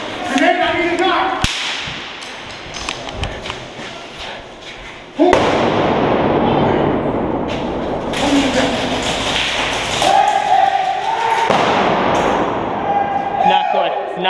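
A frag grenade bursts with a loud sudden bang during an airsoft game, then a sustained hiss and clatter, amid shouting players and sharp taps from gunfire.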